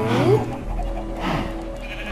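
Close sheep bleats from a Minecraft farm pen, two drawn-out wavering calls about a second apart, loud and alone.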